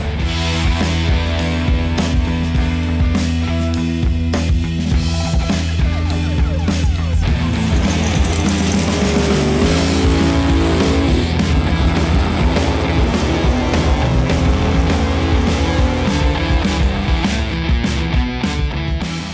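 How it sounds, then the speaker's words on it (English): A drag race car makes a loud, sustained re-entry round run at a $500,000 event in Alabama, its engine roaring continuously with shifting tones from start to finish. "Just ran the re-entry and turned on the wind light."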